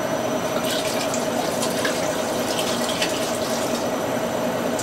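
Red wine, about half a bottle, poured into a pan of caramelised red onion chutney: a steady, close liquid rush that runs unbroken from start to finish.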